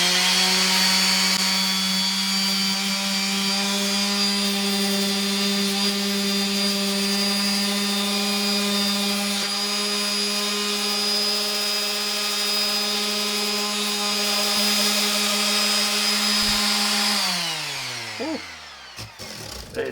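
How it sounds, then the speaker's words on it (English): A steady, loud electric power sander drone with a constant pitch, sanding a fossil needlefish, runs for most of the clip, then winds down and stops near the end. "Now I'm a little bit of sanding here to clean that up."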